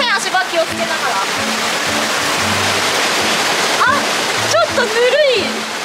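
A hand splashing in a river warmed by hot spring water: steady rushing flow with intermittent close splashes, and voices talking over it.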